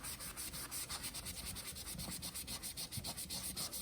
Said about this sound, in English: It comes right out with some scrubbing.